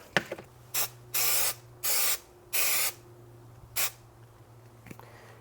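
Several hissing bursts of spray adhesive from an aerosol can, two short and three longer, separated by pauses, close by with a low hum beneath.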